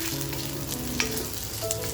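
Green chillies, garlic and ginger sizzle and fry in a hot kadhai, a steady close crackle with faint stirring scrapes and no voices.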